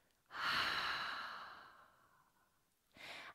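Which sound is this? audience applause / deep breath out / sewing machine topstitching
deep breath out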